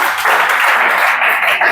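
Loud, energetic clapping from a group of students in a police-exam coaching class, a dense burst of hand claps that holds steady for a couple of seconds, close and alone without speech.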